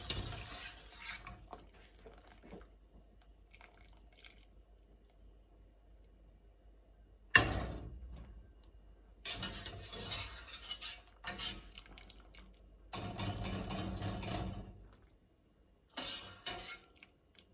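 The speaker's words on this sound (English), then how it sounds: "I'm going to fish these out. Put them in a big bowl." Cooked tortellini fished out of a pot into a big bowl, with bursts of clinking utensil and dish clatter separated by quiet pauses.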